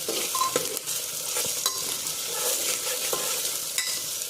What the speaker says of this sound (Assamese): পিছত এইখিনি আমি ভালকৈ ভাজি ল'ম।